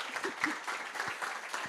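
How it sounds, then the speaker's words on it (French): Applause from an audience at a company talk, a soft, fairly distant patter of many hands clapping evenly for under two seconds, faint and steady. "Bon, on peut l'applaudir."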